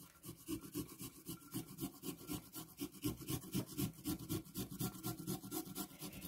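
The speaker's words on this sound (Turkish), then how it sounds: "Şöyle zencefilimizi güzelce dış kabuğunu soymuştuk. Şimdi ince ince rendeliyoruz." Peeled fresh ginger scraped against a grater in quick, even back-and-forth strokes, a close rhythmic rasping that repeats steadily throughout with no voices.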